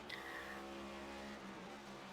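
A NASCAR Next Gen car engine in the iRacing video game at New Hampshire runs with a steady, droning roar that stays loud and even throughout, with a brief tire squeal near the start.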